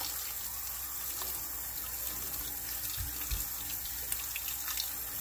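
Water running steadily from a tap during washing, a constant close splashing stream into a sink with a few small knocks.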